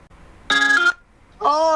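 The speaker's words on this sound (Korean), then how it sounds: "자, 이제 엄마한테 전화를 한번 해보겠습니다." Two bursts of a phone's ringback tone heard through a speakerphone, each a steady harmonic tone about half a second long separated by a short pause, clear and fairly loud in a quiet room.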